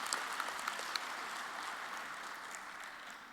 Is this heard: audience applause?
yes